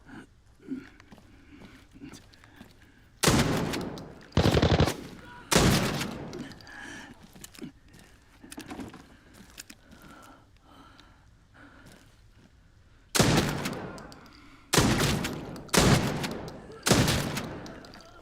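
Two clusters of loud, sharp gunshots, three blasts each, separated by a long stretch of quiet low rumble and faint background noise.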